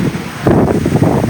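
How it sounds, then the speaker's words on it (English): Strong wind from Typhoon Doksuri in Taiwan buffets the microphone with a steady low roar that swells louder halfway through, heard outdoors among plants with no talking. "It's actually quite windy."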